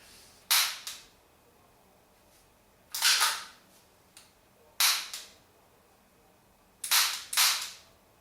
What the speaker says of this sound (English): I'm going to hold down the slide lock so it will cycle on empty.